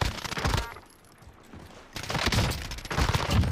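Rapid bursts of automatic gunfire in the video game Modern Warfare Warzone, loud and close, with a brief lull before the shooting resumes; voices are heard around it.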